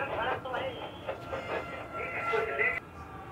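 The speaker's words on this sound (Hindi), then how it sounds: "ट्रेन अभी जैसे ही अराइव कर दी है जस्ट" A Vande Bharat Express train pulls in on the Patna–Howrah run, a soft rolling rumble with faint rail noise heard from inside the cabin, with a person talking over it.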